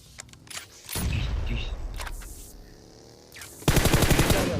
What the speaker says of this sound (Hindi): खैर अब M4 चलानी पड़ेगी।